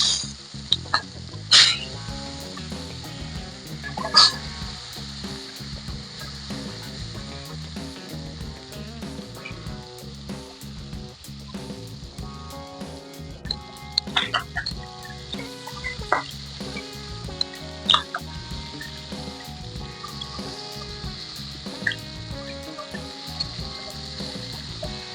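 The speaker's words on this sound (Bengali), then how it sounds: "প্রথমে তেল দিয়ে রুই মাছগুলো ভেজে নেব।" Rohu fish pieces fry in hot oil in a pan, giving a steady, soft sizzle with occasional louder spits and pops beneath tonal background music.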